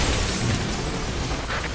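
Dense, continuous rumbling boom of explosions in the video game Earth Defense Force 6 on PS5, loud and sustained with crackling bursts throughout and no talk.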